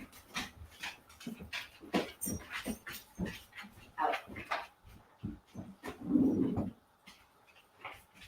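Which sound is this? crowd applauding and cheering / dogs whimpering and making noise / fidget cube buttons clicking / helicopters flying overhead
dogs whimpering and making noise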